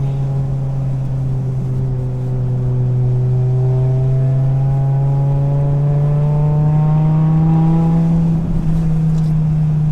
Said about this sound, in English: It's been a while since I've done a donut.